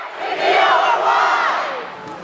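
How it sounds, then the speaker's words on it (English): A school homecoming pep rally crowd roars in a loud, sustained victory cheer, many voices yelling together in a gym and swelling then easing off. "The Pep Rally ended with a victory cheer as each grade cheered to win the Spirit Stick."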